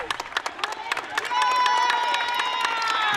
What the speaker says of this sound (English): You hear the applause here for both teams on a match well played, exciting.